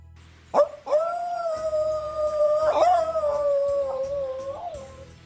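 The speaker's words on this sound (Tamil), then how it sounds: "நரி ஊளையிடும்." A fox gives a long, sustained howl, loud and clear, with a sharp yelp at the start and a wavering pitch that rises and falls over several seconds. It sounds alone, with no talk.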